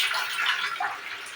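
Water pouring into a pan while making a mustard tengra fish curry, a steady broadband splash that holds without a break and stands alone with no talk over it.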